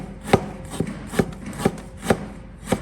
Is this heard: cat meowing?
no